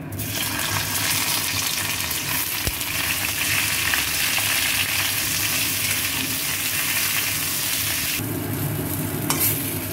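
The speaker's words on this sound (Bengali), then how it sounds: "কলাটা দিয়ে দেবো তেলের মধ্যে" Loud, continuous sizzling of banana frying in hot oil, close up and steady, with a brief clink partway through and no voices.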